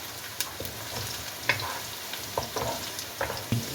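Onion fries in oil with whole spices (cinnamon, star anise, green cardamom, cloves, black pepper and cumin) for chana pulao, giving a soft, even sizzle broken by faint pops and the light knocks of stirring.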